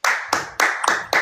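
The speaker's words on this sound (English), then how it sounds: "Round of applause, Caleb Johnson." Five sharp, evenly spaced hand claps ring out close and loud in a quick steady rhythm, heard alone without talk during a live social-media stream.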